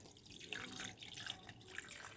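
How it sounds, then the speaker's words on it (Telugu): Water is poured into a pan and stirred while making an old-style moong dal rasam, heard as faint, sparse trickling and dripping against a quiet kitchen background with no speech. "దీంట్లోకి మనం వాటర్ పోసుకుని కలిపేసుకుందాం"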